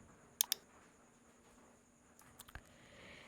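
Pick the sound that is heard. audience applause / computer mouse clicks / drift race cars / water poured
computer mouse clicks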